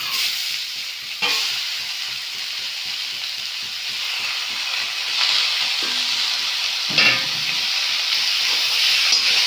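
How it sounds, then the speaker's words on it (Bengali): Boiled banana flower and potatoes fry in spices in a pan, producing a loud, continuous hissing sizzle with a few dull knocks of a spoon against the pan and no voices. "মোচা আর আলু বেশ ভালো করে আবার কষে নেব"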